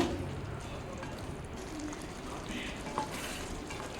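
Chicken curry sizzles steadily in a pan as coriander is stirred in. The frying hiss is close and continuous, with soft scraping from the stirring.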